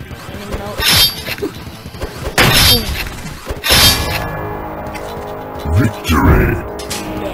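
Robots being smashed apart in Clone Drone in the Danger Zone: four loud, sharp crashing shatter bursts spaced a second or so apart, each with ringing metallic debris and a clattering tail between them.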